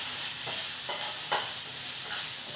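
Turmeric, chili powder and jaggery are stirred into hot oil in a pan. Close, soft frying hiss runs under a few light scraping strokes of a spoon, and no one speaks.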